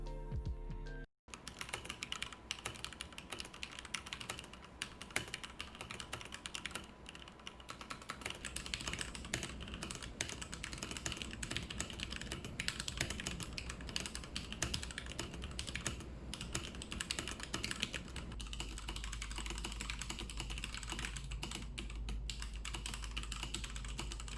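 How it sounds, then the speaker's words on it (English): Steady, fast typing on an ROG Strix Scope TKL Deluxe mechanical keyboard, close and dense keystroke clatter continuing throughout after a brief pause near the start, with no speech. "typing felt awesome as well"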